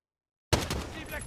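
Gunfire from a machine gun in the video game Modern Warfare 2019 erupts after half a second of silence and continues as a dense, loud burst to the end.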